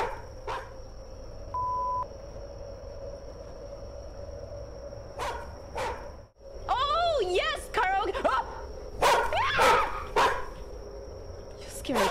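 A dog in a karaoke-themed video game barks loudly in sharp bursts, close and harsh, between beeps and game tones, while a person talks and shouts over it.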